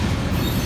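SD40 locomotive train passing close by, a loud dense rumble of wheels and rail noise filling a brief moment.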